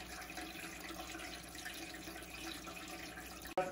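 Water runs steadily down a Gutter Pro Leaf Slugger sales display simulating very hard rain, a continuous faint trickling and splashing wash with a brief knock near the end.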